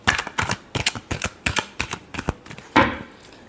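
Tarot cards are shuffled close by, giving a rapid series of crisp snapping riffles in quick irregular bursts.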